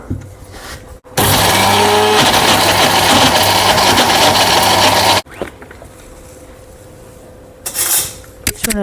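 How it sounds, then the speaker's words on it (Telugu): A mixer grinder whirs loudly for about four seconds, grinding coriander, dried chillies, tamarind, salt and garlic into powder, then cuts off abruptly, leaving quieter clattering and a brief burst near the end. "ఈ మిక్సీలో వేసుకొని పొడి చేసుకోవాలండి"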